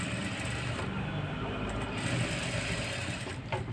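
A sewing machine runs steadily at close range, stitching piping onto a blouse with double tension, giving a continuous fast mechanical whir with slight speed changes and no talk.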